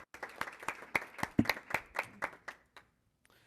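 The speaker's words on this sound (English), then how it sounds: "Let's give one more round of applause for Carol G. Peck, Global Academy of Phoenix, and the Madrid Neighborhood School." Sparse, distinct hand claps from a few people at a governing board meeting honoring local schools, about a dozen individual claps at an irregular rhythm, fairly quiet, tapering off into silence.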